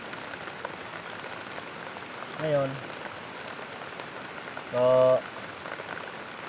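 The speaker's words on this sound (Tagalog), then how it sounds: "malakas ang ulan tapos lumaki na rin yung tubig" Heavy rain falls steadily by a rising, muddy gold-panning stream, a dense constant hiss throughout, with someone speaking briefly twice over it.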